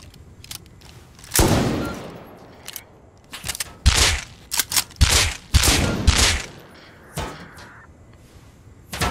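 Gunfire in the video game Rust on the Large Oil Rig: several sharp, loud bursts and rapid volleys, spaced irregularly, with quieter gaps between them and no talk.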